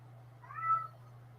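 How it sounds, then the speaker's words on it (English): A single drawn-out meow from a cat somewhere indoors, rising and falling over about half a second. It is fairly faint, heard alone over a low steady hum. "And Kitty is having a fit for some reason"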